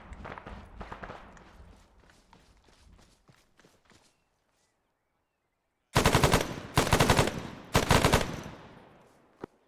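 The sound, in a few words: gunfire in the video game Arma 3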